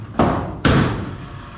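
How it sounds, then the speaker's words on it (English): Car door on a 1969 Mustang Boss 9 tribute with original hinges, shut twice in quick succession: two sharp, close thuds with a metallic ring, each followed by a short decaying tail, no talking. "Door is also shut pretty nice."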